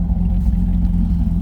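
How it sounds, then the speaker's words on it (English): A 2006 Corvette C6 widebody idles at about 600 rpm, a deep, even, close rumble with a steady low throb and slight clatter, heard alone without talking. "You can hear it has a very nice idle."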